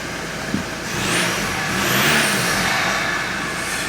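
A car engine runs while gears are tried on a newly fitted European 4motion transmission. It holds a steady idle, swells into a moderate rev, then settles back, heard close and loud.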